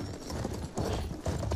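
Horses galloping in the video game Battlefield 1, a close rapid drumming of hoofbeats in uneven bursts, loud and continuous.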